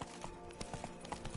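Horse hooves clip-clopping in The Witcher 3: Wild Hunt, Blood and Wine, a quick steady trot of fairly faint hoofbeats with several distinct knocks over a soft ambient background.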